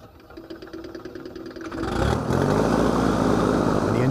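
Light aircraft piston engine with FADEC control starting up: a cranking rhythm builds over two seconds, then catches into a loud, steady, rumbling idle close by.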